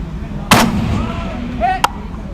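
IWI gas-operated rifle fired from the prone position at a 500-yard range target, one loud sharp shot followed by a second shorter crack about a second later, over steady outdoor background noise.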